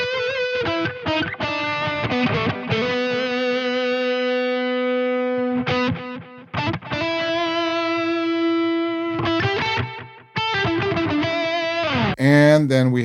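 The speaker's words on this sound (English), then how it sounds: "Here we have the digital delay." Electric guitar run through a digital delay effect on a Neural DSP Quad Cortex, sustained distorted notes and chords ringing out with repeating echoes, phrases separated by short gaps, ending in a brief burst.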